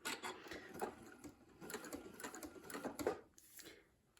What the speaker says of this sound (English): I'm aiming to sew right through that point where the needle goes in